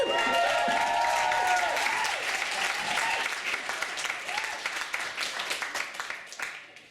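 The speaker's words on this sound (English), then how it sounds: "Now, give a massive round of applause to Millie." At a university poetry slam, an audience cheers and claps loudly for a poet, the cheering fading after a few seconds while the applause thins out and tapers off.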